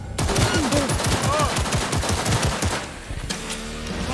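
Rapid bursts of automatic gunfire in Cyberpunk 2077, loud and close, with fast rattling shots for about three seconds, then a pause and a few scattered shots.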